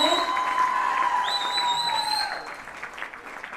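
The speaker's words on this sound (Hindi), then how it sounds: "एक बार जोरदार तालियों के साथ let's thank her" An audience at a grand makeup product launch event claps steadily, and the applause trails off toward the end while a bright musical tone plays over it.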